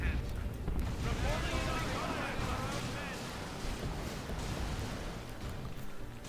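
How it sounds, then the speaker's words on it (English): A creeping artillery barrage falls in the Dawn of War 2 video game, a dense roar of rolling explosions and booms that runs continuously under a commentator's talk. "we've got a creeping barrage coming in"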